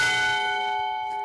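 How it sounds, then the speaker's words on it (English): A single struck bell rings out at a death penalty protest rally at the Indiana Statehouse, one loud, close strike with a long, steadily fading metallic tone and no voices. "This bell is a symbol of an execution that happened in the late 1900s in the state of Delaware."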